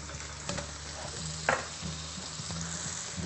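Rice and peas stir fry sizzling in a pan, a steady crackling fry with a few sharp clicks and scrapes of stirring, close and clear with no talk.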